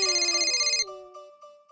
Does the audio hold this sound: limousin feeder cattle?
no